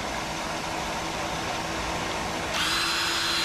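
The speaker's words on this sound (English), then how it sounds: "Fire up the grinder." An electric grinder takes material off the end of a servo part during a 200-4R transmission rebuild, a loud, steady whine with a hissing edge that grows brighter and louder for the last second as it bites into the metal.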